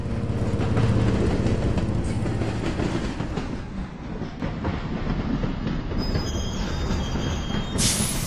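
Train running in the Train vs Cars mobile game, loud continuous rumbling with rail clatter and squealing wheels throughout, steady and close.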